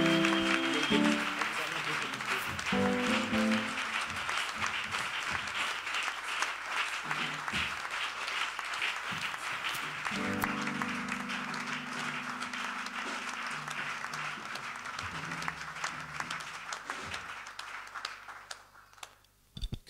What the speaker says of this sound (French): Nous acclamons très fort le Seigneur. Acclame très fort le Seigneur.